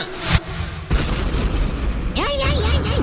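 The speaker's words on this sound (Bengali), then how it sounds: "ওরে বাবা রে, বোমা ঝাড়ছে কে?" Two sharp, cartoonish crude-bomb blasts go off in quick succession over a constant high cricket chirp, followed by an animated voice speaking in a cartoon.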